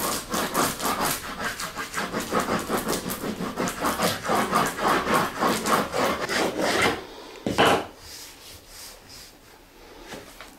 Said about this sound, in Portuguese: Agora eu uso uma cunha de madeira para poder realmente colar a lâmina na madeira.